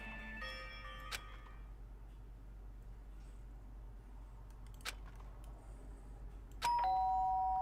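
Doorbell chime in the video game Danganronpa Trigger Happy Havoc, with bright tonal notes at the start and a sharper, louder chime near the end over a low steady hum, separated by faint ticks and clicks.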